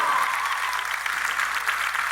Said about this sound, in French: Applaudissements pour Sarah